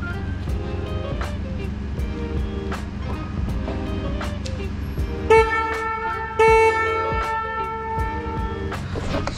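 A car horn on a Suzuki Jimny honks in two short bursts, the second slightly longer, over a low idling engine and faint background noise.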